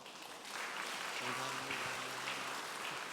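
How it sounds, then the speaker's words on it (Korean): A church congregation claps together during a Sunday worship service in Daegu, a steady wash of applause that swells after the first half second and holds evenly, with some low tonal sound beneath it. "다시 한번 축복의 박수 해주시길 바랍니다"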